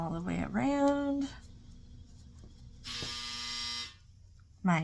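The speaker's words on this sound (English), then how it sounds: "My dryer is done" A clothes dryer's finished buzzer sounds once as a steady, harsh electronic drone lasting about a second, following brief speech and a sustained vocal tone, with another voice starting at the very end.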